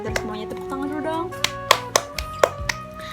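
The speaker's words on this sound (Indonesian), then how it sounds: "tepuk tangan dulu dong" A classroom of students claps, a handful of sharp, scattered hand claps over a steady background of tones and voices.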